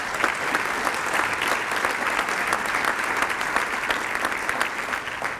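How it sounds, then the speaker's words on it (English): A crowd at an awards ceremony breaks into warm, sustained applause, with dense, even clapping that holds steady throughout. "we will also let her know of your warm round of applause"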